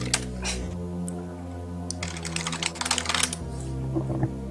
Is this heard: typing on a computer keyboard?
yes